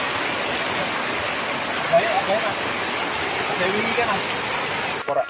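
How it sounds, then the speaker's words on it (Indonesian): Rain falling on a tent at a mountain campsite on Mount Sindoro, Indonesia: a steady, close hiss of rainfall runs throughout, with a few faint voices in the background. "Hujan guys."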